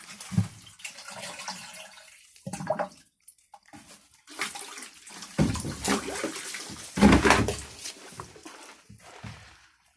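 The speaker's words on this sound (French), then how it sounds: "Je vais prendre l'arrosoir directement." Water rushes into a watering can in a greenhouse, coming in loud, close, uneven gushes separated by short pauses.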